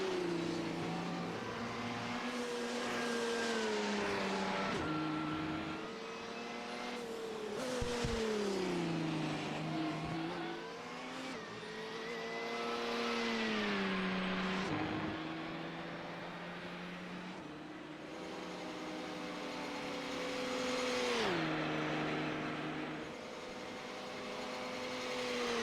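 Sports racing cars on the final lap at the Spa circuit in Belgium roar past in a continuous, loud engine drone, shifting gears and revving up and down as they pass.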